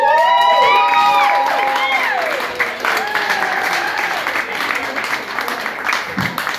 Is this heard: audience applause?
yes